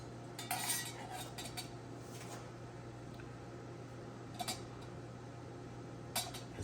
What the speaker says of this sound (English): Stir this some more